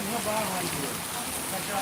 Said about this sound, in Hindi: अच्छी खासी बारिश हो रही है भैया